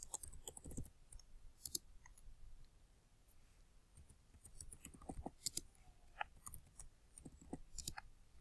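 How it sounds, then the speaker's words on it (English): Quiet, irregular clicking of keys being typed on a keyboard, close and soft, in short bursts with brief pauses. "So I'm typing in all 8 data values."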